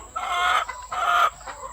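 Chickens at a laying nest on an integrated farm give two loud, close bursts of clucking calls, each under a second. No voices are heard, and nothing else sounds around the birds.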